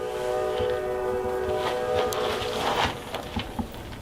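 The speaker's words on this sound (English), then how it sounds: "It always picks up when the train goes through." A train rumbles past with a sustained horn tone at first, then clattering wheels and metallic knocks fading over steady background noise.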